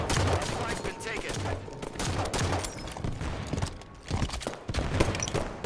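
DMR fire in a Halo 5 arena match: rapid, dense bursts of sharp shots crackle loudly one after another with brief gaps, and a voice murmurs faintly under the gunfire.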